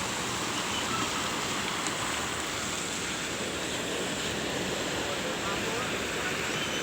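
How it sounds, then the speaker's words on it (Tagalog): Artificial waves roll through a wave pool, making a steady, unbroken wash of surf noise that stays even and moderately distant throughout. "Artificial na alon yan."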